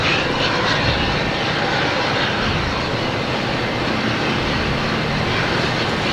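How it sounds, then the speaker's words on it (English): JetBlue Airbus A220 airliner arriving at Boston Logan Airport, a steady broadband jet engine roar heard from a moderate distance, with no talk. "Next coming in, we have a JetBlue coming in from San Juan. An A220."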